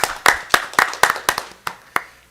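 A handful of people clap at a school district board meeting after a motion passes, a short burst of loud, distinct claps in an uneven rhythm that slows and thins out to a few last claps.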